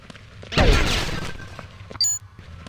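A hardened glass structure shatters in the video game Morphite, one sharp crash with a spray of breaking fragments that trails off, followed by a brief electronic chime.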